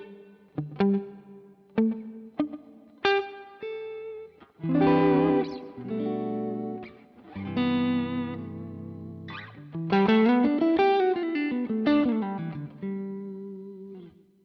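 A Stratocaster electric guitar run through an FM9/Axe-Fx with a large plate reverb plays single plucked notes, then ringing chords and a melodic phrase, each decaying into a smooth, lingering reverb tail.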